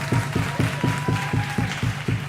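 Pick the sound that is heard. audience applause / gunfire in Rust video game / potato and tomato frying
audience applause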